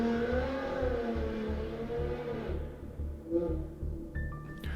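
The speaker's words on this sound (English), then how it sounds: "who's revving their engine at 9 a.m. On a fucking Thursday?" A car engine revving somewhere outside, a rising and falling motor drone with a couple of throttle swells, moderately loud but somewhat distant, with a few faint indoor clicks near the end.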